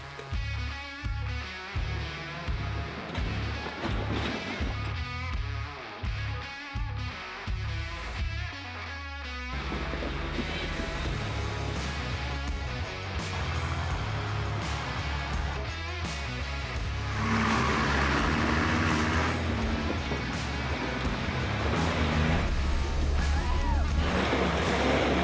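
Nissan Patrol 4WDs, including a GQ, climb an off-road track, with a loud, roaring engine and rough rumbling that shifts to a dense, windy, sustained drone, and possible voices underneath.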